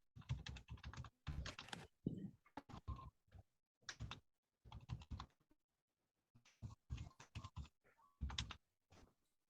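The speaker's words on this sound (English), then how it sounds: "I better finish what I was typing." A computer keyboard clatters in quick bursts of keystrokes separated by short pauses, close and fairly quiet, with no talking over it.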